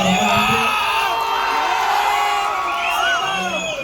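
A packed audience at SB Cinemas in Poonamallee roars for the visiting Bison movie team. Loud whistles, whoops and yells swell together and stay dense throughout, close and filling the hall.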